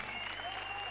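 Applause at an Azerbaijani wedding, a dense wash of many hands clapping under sustained tonal music with a steady low hum, fairly loud and continuous throughout.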